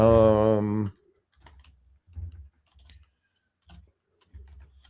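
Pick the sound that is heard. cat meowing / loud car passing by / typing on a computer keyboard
typing on a computer keyboard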